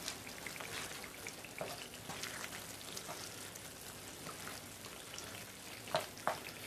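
Bhuna curry with a thick onion base frying in a pan as it is stirred, a steady close sizzle with scattered spits and two sharper pops near the end, no talking.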